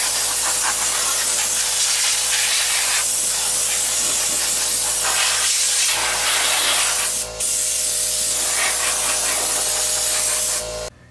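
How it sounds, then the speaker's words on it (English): An air compressor nozzle blows dust out of a Toshiba W704 VCR in a continuous loud hiss at close range, broken by two short pauses before it stops. "we'll get the air compressor out and just blow out some of that dust"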